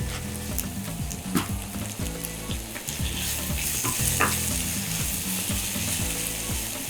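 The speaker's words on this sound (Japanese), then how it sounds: "しっかりと炒めなくても水分が多いんで、熱を加えてちょっとこの色が変わってきたなっていうぐらいでいいです" Spinach leaves sauté in a hot pan for a crab and spinach quiche, giving a loud, even frying hiss broken by a few sharp scrapes and taps of a utensil stirring.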